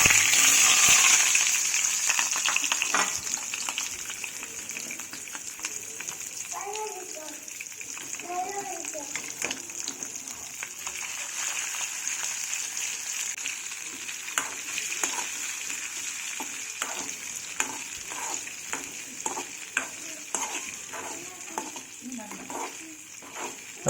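Masala-coated quail eggs sizzle steadily in hot coconut oil with curry leaves while a spoon stirs them, a continuous close frying hiss with irregular scraping, and a faint voice in the background.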